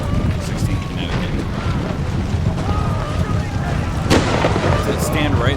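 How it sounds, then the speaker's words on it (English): Artillery fire in a Napoleon Total War Civil War mod battle at Burnside Bridge, Antietam: a continuous low rumbling roar of distant cannon with a sharper boom near the four-second mark, under a steady windy wash. "Let's stand right there and let my artillery fire."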